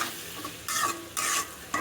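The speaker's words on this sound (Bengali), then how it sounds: "সামান্য পরিমাণে মরিচের গুঁড়া, সামান্য পরিমাণে ধনে গুঁড়ো দিয়ে মশলাটা ভালো করে কষিয়ে নেব" A spice masala with chili and coriander powder is sautéed in a pan, and close, bursty sizzling swells with each stir, three or four loud surges over a low continuous frying hiss, with no talking.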